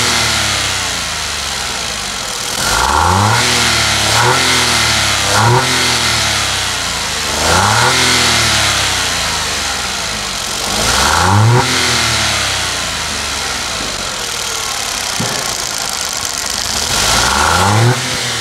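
A 1.3-litre three-cylinder car engine revs again and again from idle, each push climbing in pitch and then dropping back, loud and close with a raspy, buzzy tone and no talk.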